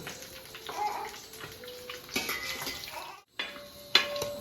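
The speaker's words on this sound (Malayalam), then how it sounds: "മീനിങ് വറുത്ത് കോരുവാണ്." Sardines frying in hot oil for fish pickle give off a steady, close sizzling hiss, broken by a brief pause and a few metal utensil clinks.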